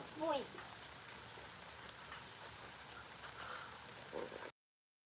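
Soft, continuous rain falling, a steady hiss with faint voices briefly surfacing before it cuts off to silence.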